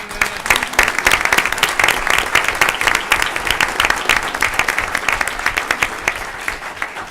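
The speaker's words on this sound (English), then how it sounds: "So I want to give a huge round of applause to Ms." Loud, dense applause from the audience at a HCISD special board meeting for Ms. Sanchez, with many hands clapping steadily throughout and tapering slightly at the end.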